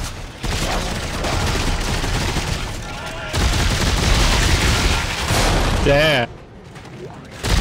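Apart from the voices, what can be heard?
rifle gunfire in the video game Dead Space 3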